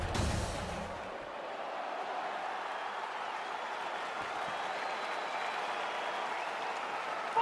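A video-game arena crowd in UFC 4 cheers and applauds as a fight begins, a dense, steady roar of clapping and voices that holds throughout.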